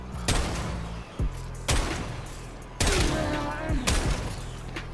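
The Strun Wraith shotgun in Warframe fires in heavy, booming blasts, four or five loud shots at uneven intervals, each with a ringing tail, under a steady game background.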